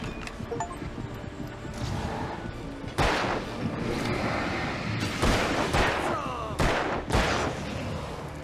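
Gunfire in the video game Alan Wake, loud sharp shots and bursts starting near the three-second mark and repeating irregularly over a continuous rumbling background.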